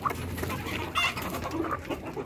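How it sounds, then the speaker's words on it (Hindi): Several chickens cluck and chatter in short, scattered bursts while feeding at breakfast, with a couple of sharper calls standing out over a soft background. "सर्दियों की मुर्गी"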